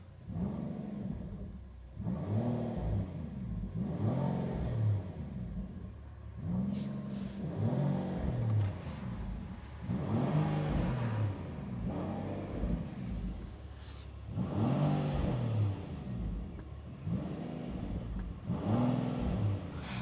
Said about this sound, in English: You can already feel the rumble and the raw sound of the exhaust